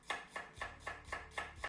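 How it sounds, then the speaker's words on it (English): A knife slices onions into strips for tacos, chopping through in a steady rhythm of about seven crisp, evenly spaced strokes, close and clear with no talking. "when I cut my onions down like this into strips"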